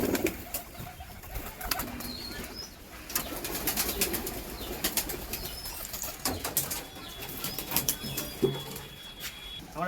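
A frightened racing pigeon at a high-flyer tournament flaps its wings in bursts amid soft cooing and occasional chirps, fairly close, with no speech.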